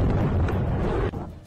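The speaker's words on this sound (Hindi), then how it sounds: "तभी एक जोरदार धमाका हुआ।" A loud bomb blast strikes a Pakistani army vehicle on a road in Kohlu district: a heavy, rumbling broadband roar that sustains, then cuts off sharply near the end.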